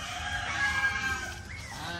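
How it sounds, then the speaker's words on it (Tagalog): Geese honk close by in a short burst of loud, nasal calls. "Ito yung mga gansa."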